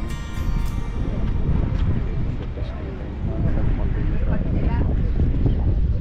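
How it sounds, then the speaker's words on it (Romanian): Strong wind buffets the microphone continuously on the coast near Saint-Malo, a rough roaring gust noise that stays loud throughout, with faint voices underneath. "E un pic vânt"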